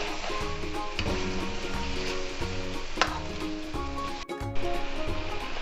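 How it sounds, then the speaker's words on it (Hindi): Mutton karahi sizzling and frying in oil with meat, salt, ginger and garlic, a steady close crackle broken by repeated scraping stirs and occasional clanks of a spoon against the pan. "और फिर से हम इसकी भुनाई करेंगे 2 से 3 मिनट के लिए।"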